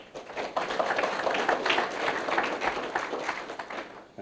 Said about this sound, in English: he probably deserves a round of applause just for that